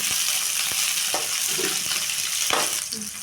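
Onion sizzling in hot oil with popped mustard seeds and cumin for a black-eyed pea palya, a steady close crackle with a few sharp stirring clicks scattered through it.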